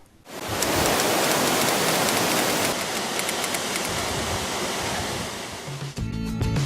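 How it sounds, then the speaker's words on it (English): Ulan Sotolang Waterfall in Mongolia roars with a steady, loud wash of falling water that fills the whole scene, with a brief low rumble and some handling bumps near the end. "This is Ulan Sotolang Waterfall."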